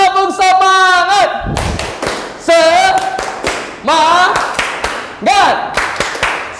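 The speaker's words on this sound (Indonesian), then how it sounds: "Oke, tepuk semangat." A class performs a rhythmic spirit clap in patterned bursts, sharp hand claps falling in short groups between loud group chanting voices, close and energetic.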